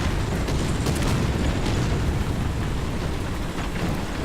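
Artillery barrage explosions in the War Thunder tank game, a dense continuous rumble of booms and blasts that stays loud throughout with no talk.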